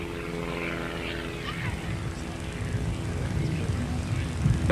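Aerobatic propeller airplane performing loops and snap rolls at a 1989 airshow in Fargo, a distant droning engine that swells gradually louder, under a public-address announcer talking over it.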